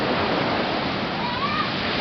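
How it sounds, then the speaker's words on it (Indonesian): Big waves crash and churn in the sea off a village in Central Maluku, a steady roar of broad surging water that fills the whole clip up close. "terbawa gunung ombak besar yang melanda perairan di desa tersebut"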